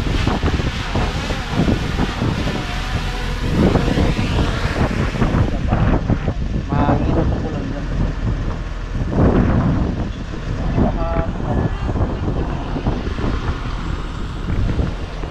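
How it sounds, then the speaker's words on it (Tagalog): Strong typhoon wind from Typhoon Bebinca roars and buffets the microphone continuously, loud and rough throughout, with no clear voices. "Mahangin."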